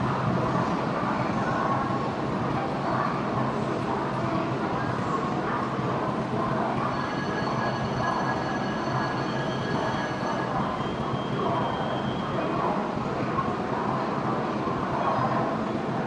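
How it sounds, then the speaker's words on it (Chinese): A coupled pair of CRH380B high-speed trainsets pulls out of Shenzhen North station, a steady, fairly loud rolling roar with a faint rising electric whine partway through and no voices. "深圳北至上海 G2786次和谐号 CRH380B 重联发车"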